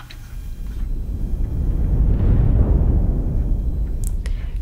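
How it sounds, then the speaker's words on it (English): A low boom swell patch from a film score builds as a deep rumbling surge, swelling loud through the middle and easing off, with a couple of faint high ticks near the end. "So it almost ends in a little bit of a boom, but then I double that with another low booms patch."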